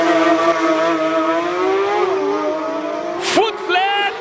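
A Porsche GT3 RS race car accelerates up a hill climb course, a loud high engine wail that climbs in pitch through the gears, with a sharp upshift near the end.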